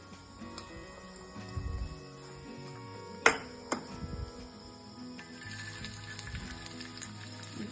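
Chopped boiled onion dropped into a hot steel pot and frying, a low crackling sizzle with a sharp clatter partway through, moderately faint and close, with no speech.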